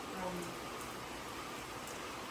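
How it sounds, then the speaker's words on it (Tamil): Heavy rain falls steadily on a balcony, a dense hiss filling the whole stretch, with a faint voice low underneath. "பார்த்தீங்களா மழை பெய்யுது பார்த்தீங்களா?"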